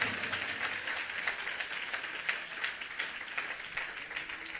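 An audience at a church sermon by Pastor Ernest Paul claps steadily, and a dense, even patter of many hands carries through the whole stretch with no one speaking over it.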